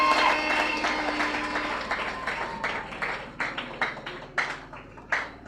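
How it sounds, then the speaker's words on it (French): A church congregation applauds, the clapping loud at first and then thinning into scattered bursts of claps that fade out. "Acclamez très fort"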